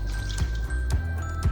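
Tamarind water poured from a container into a pot of chili sauce with garlic cloves, salt and sugar, making a soft liquid trickle with a few wet splashes close by, no talking.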